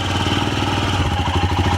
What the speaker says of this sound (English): it's a bit of a putt-putt engine, as I would call it